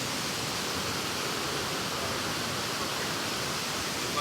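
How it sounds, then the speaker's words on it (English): A small waterfall, Minjo on the Thiba River in Kirinyaga, pours with a constant, even roar of falling water, close and unbroken, with no voices over it. "This is Minjo waterfall"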